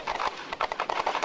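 Gunfire from Serbian special forces during a ground assault, rapid bursts of shots cracking in an irregular, dense rhythm, fairly loud and close with no voices.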